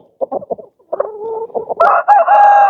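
Chickens in a backyard chicken pen cluck in short bursts, then break into louder, sustained squawks and calls, close by with no talking.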